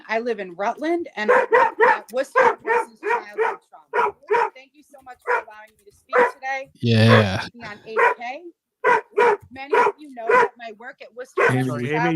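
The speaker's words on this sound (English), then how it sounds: "Sorry about my dog." Household dog barking in the background of a speaker addressing a council meeting by remote call, with short yaps breaking through around the middle of continuous talk.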